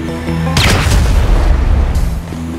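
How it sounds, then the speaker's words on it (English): Heavy in-game explosion in GTA 5 on PS5 during a rooftop raid on the Bureau, a sudden loud booming blast cutting through background music and rumbling for about two seconds before settling. "An explosion will tend to do that."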